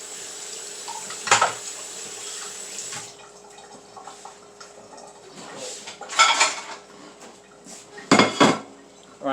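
Ceramic plates and cutlery clink and clatter in a kitchen sink with running water, a few sharp knocks standing out over the flow while veggie burger patties are being prepared.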